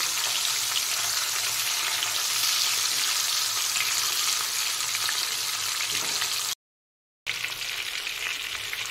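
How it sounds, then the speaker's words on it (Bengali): Hilsa fish fries in mustard oil in a pan, a dense, loud, continuous sizzle held close throughout, briefly cut by a short silent gap before resuming. "মাছটা দিয়ে এই সাইডটাও লাল করে ভেজে নেব।"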